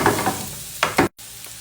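Onion sautéing in a pan alongside a tuna and mayonnaise mixture, a close sizzle with a few stirring bursts, then a brief total dropout before a quieter sizzle resumes.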